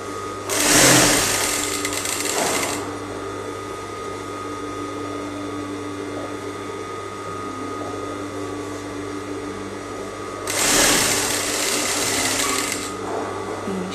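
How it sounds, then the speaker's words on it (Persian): A sewing machine stitches lace onto fabric in two loud, steady whirring runs, one near the start and one near the end, with a quieter room hum in between and no talking. "تورمون رو قرار میدیم روی اون یک سانت و شروع به دوخت"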